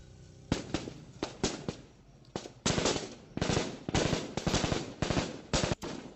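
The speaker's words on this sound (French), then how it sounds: "L'exercice se fait avec des munitions à blanc, mais en situation réelle." Rapid bursts of blank-round gunfire crackle during a military ambush exercise, sharp shots in quick irregular volleys and clusters, loud and close with no talking.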